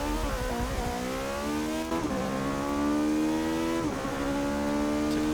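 A race car engine in Forza Motorsport 6 revs hard at close range, and its pitch climbs and shifts repeatedly as the car accelerates through the gears at high speed.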